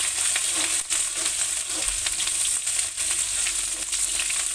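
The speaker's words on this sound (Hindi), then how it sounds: "अदरक के बाद इसमें लहसुन भी डाल देना अच्छे से।" Ginger and garlic sizzle in hot oil in a wok, a steady close crackling fry with faint stirring scrapes, with no voices.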